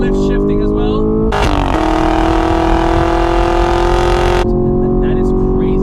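Chevrolet Camaro LT1 V8 launching under launch control, a loud roaring surge that builds abruptly, holds a strained high-revving howl for about three seconds, then cuts back to a lower drone.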